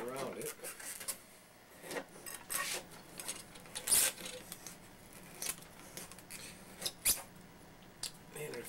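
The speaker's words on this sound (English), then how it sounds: "I'm just going to take a fillet knife and cut all the way around it" A fillet knife cutting around a hardened homemade fishing lure body, short scraping and snipping strokes in irregular bursts, close, with a person talking throughout.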